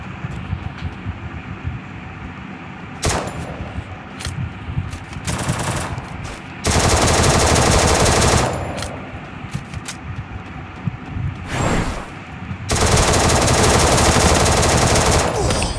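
Rapid automatic gunfire from the video game Free Fire Max, loud close bursts that start and stop, with two long sustained volleys and shorter rattles between them.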